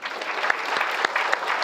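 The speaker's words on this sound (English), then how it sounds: "Let's have one more final round of applause." Final round of applause at an academic honors recognition reception, a short, full burst of many hands clapping, steady and fairly close, with no talking.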